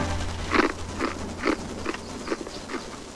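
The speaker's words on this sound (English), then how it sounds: "I wonder what makes these little things crunch so loud." A crunchy snack is chewed loudly and close up, with a steady rhythm of about six or seven crisp crunches spaced roughly half a second apart, in a 1987 television commercial.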